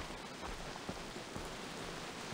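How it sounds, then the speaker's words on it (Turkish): Steady rain pours down in the video game Far Cry 3, an even, hissing wash of drops with no breaks and no voices over it. "Yağmur yağıyor lan oyunda."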